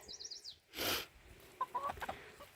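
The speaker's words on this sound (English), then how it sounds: "All chickens present and accounted for in the cage." Chickens in a coop give a few short, soft clucks and quiet calls, fairly faint and close, with a brief rustle and a high chirping sound at the start.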